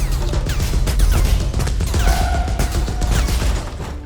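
Dense, rapid bursts of gunfire crackle continuously over a low rumble, loud and sustained throughout, in central Rio de Janeiro.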